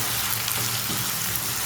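Ripe tomatoes and salt added to a hot pan for hotel-style parotta salna, crackling in a dense, even sizzle that holds steady throughout, with no talking.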